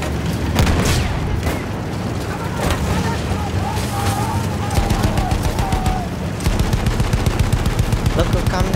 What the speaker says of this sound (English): Machine gun ready!